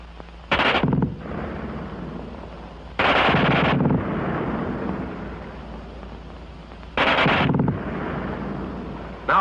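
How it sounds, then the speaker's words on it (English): A German WWII machine gun ripping off three short, very fast bursts, loud and harsh, each separated by a few seconds of rumbling echo and background noise. "who can't get over the fast burp of that German gun"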